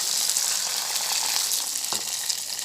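Oil sizzles in a pot while mujaddara of rice and lentils cooks. The hiss is loud, steady and close, continuous throughout with no talking.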